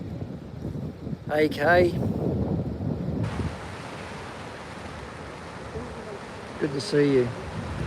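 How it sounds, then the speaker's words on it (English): Wind gusting across an open coastal headland at Cabarita, with steady broadband rushing and buffeting on the microphone, the surf blending into the roar; someone speaks briefly at the start and again near the end. "Wind's just starting to kick now."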